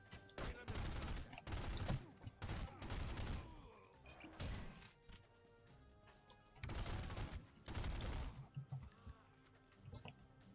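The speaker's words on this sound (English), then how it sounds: "That guy likes shooting you a lot." Bursts of gunfire from The Godfather video game, clustered volleys of sharp shots coming in several waves with brief quieter gaps between them, fairly loud and up close.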